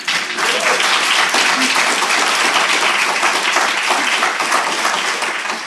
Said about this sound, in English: can we just have a round of applause for the audience?